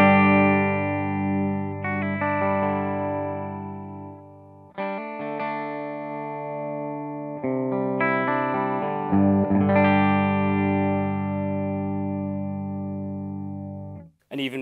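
Clean electric guitar chords from a Fender Tom DeLonge Starcaster's single pickup on a clean amp channel ring out, each strum sustaining and decaying before the next, bright and undistorted, with no voices.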